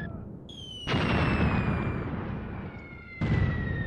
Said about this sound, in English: Mortar fire is coming right on top of the advance.